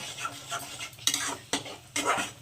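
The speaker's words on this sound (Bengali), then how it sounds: "মশলাটাকে খুব ভালো করে একদম তেল বেরোনো পর্যন্ত কষিয়ে নেব" Spice paste with salt is stirred and fried in a pan while cooking taro with prawns, making a bright close sizzle broken by several rhythmic scraping stirs of a utensil against the metal.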